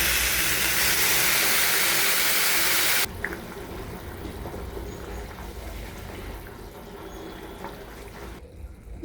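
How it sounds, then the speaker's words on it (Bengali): About five and a half cups of water pour into a pot of five cups of basmati rice for pulao: a loud, steady rushing splash for about three seconds, then a quieter lingering hiss and bubbling. "এখন জল দিয়ে দিব।"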